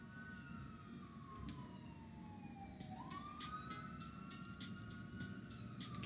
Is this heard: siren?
yes